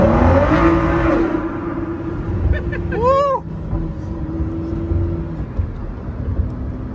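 A Ford GT engine revs loudly and drones, echoing inside a tunnel, with a brief rising whine midway.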